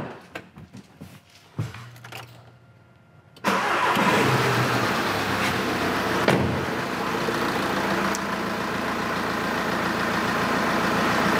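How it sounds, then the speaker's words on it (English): A diesel vehicle with common-rail piezo injectors sits quiet apart from a few faint clicks, then cranks and catches with a sudden loud start and settles into a steady, close, rumbling idle that runs to the end. "Now we start the vehicle."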